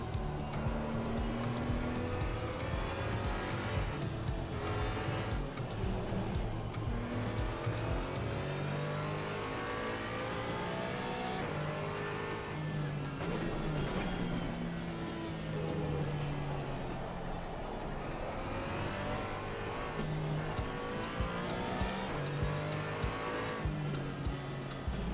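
Race car engine circling the Spa-Francorchamps circuit in a racing video game, revving up and down through gear changes with tire squeal, loud and continuous throughout with no talking.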